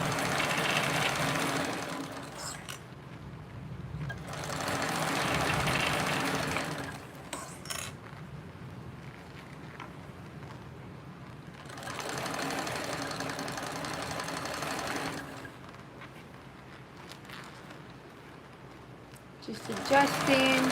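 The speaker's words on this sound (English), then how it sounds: "So I'm holding my threads, back stitching, and there we go." A sewing machine runs in bursts while back stitching, its steady motor whir rising and falling across several passes with brief pauses between, close and moderately loud, with a voice talking over it at times.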